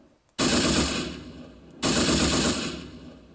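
Two loud, close bursts of machine gun fire, each about a second or more of rapid shots, are separated by a short gap and each tails off into a fading echo.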